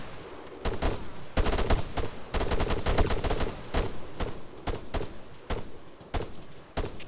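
Dense video game gunfire: rapid bursts and single shots crack continuously, some near and sharp, others layered behind, forming a sustained fusillade with no talking.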